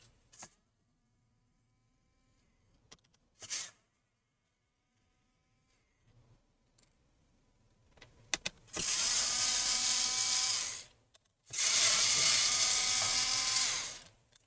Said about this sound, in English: let's go ahead and start removing all the screws